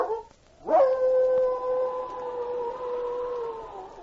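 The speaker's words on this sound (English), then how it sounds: "she raised her head to give forth a long," A white husky gives one long, sustained howl that rises sharply and then holds a steady wailing tone, loud and close with no talk over it.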